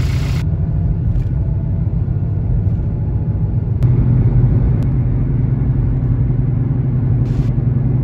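A car engine runs steadily through a test drive after an engine ground repair, a continuous low rumble with mild shifts in load and a brief rise partway through, no talking.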